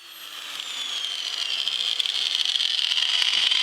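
Power tool, likely a wire wheel or drill attachment, stripping undercoating from the floor pan of a 1967 Volkswagen Beetle, giving a steady high whine with gritty scraping that grows slightly louder and stays close throughout, with no talking.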